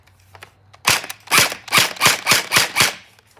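A gel blaster firing on high power full auto, a fast burst of about eight sharp, snappy shots in even rhythm following a quiet lead-in, close and fairly loud.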